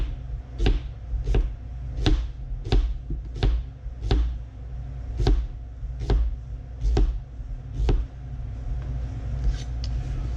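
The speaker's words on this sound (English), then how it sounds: "We can either slice them with the chef's knife and do it very thinly" A chef's knife thinly slices a halved onion on a cutting board, giving about fifteen crisp, evenly spaced chops over a low background rumble, close and clear with no talking.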